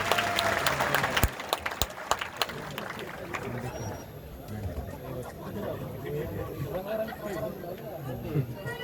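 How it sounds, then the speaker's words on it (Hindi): Loud applause from a crowd at a Hindi comedy poetry gathering bursts out, then softens into scattered clapping and a murmur of voices. "जोरदार तालियां महावीर गुड्डू जी"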